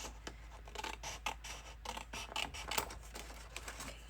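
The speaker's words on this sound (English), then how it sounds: "It's easier to trim these long ones with bigger scissors" Scissors snip and scrape through paper and tape while setting up a B5 notebook journal, a quiet, close series of quick irregular cuts and rustles with no talking.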